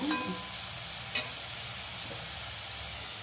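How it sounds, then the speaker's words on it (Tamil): Onions sizzle steadily while frying in a hot pan, a constant crackling hiss with a brief clink of a utensil partway through. "ஆனியன் கொஞ்சம் நல்லா வதங்கிட்டுங்க."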